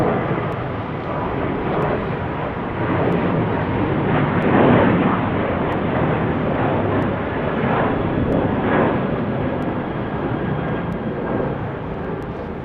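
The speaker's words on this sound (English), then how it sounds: "Checking out this Southwest 737 departing." A Southwest Boeing 737 jet departs Salt Lake City airport with a sustained broad roar of engines, swelling slightly midway then easing as it climbs away, heard from a distance outdoors.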